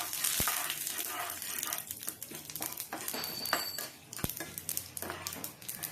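Ridge gourd curry ingredients and curry leaves frying in a pan, a soft sizzle broken by spatula scrapes and light metallic clinks against the pan.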